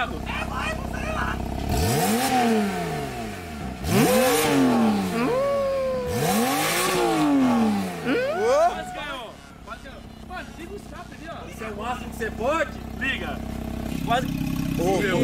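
Car engine revving with its exhaust cutout opened while parked at a lake house, three loud rising-and-falling revs close by, followed by idling rumble under excited talking.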